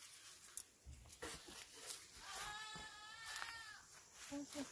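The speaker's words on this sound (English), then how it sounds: "I think the goat trying to get your attention." A goat bleats a few times at a farmstead where Jamaican oils and powders are made, the wavering calls fairly faint and mid-distance, mixed with light clatter and speech nearby.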